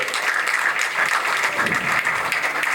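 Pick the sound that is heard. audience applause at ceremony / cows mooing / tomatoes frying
audience applause at ceremony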